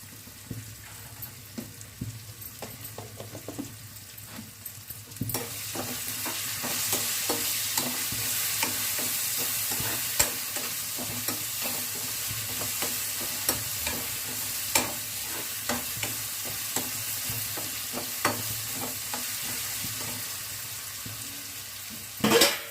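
Oil sizzles steadily in a pan as tempering spices fry for upma while a spoon scrapes and stirs at intervals, with a louder crackle starting partway through and no voices.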